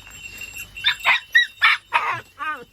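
A female dog, mother of a litter of roughly 48-day-old puppies, gives a run of six sharp close barks and yips in quick succession, the last one a whining yelp.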